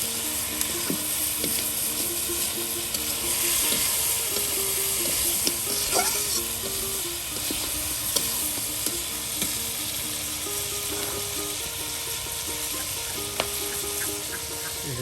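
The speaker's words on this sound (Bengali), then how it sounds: "মাংসর সাথে সাথে কিন্তু আপনার পেঁয়াজ রসুন সব কিছু কিন্তু ভালোভাবে কষানো হচ্ছে তেলের সাথে" Duck meat with onion and garlic sizzles loudly in hot oil while being stirred. Scraping strokes come through now and then, and faint clucking fowl can be heard in the background.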